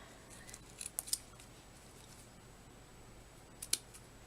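Scissors make a few sharp snips through a paper banner in a quiet room, a quick cluster of cuts followed by one more after a pause, close and crisp.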